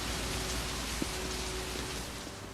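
Steady rain falling on a city street in a scene from the film Seven, a dense even hiss of drops with a faint low rumble beneath, continuous and close.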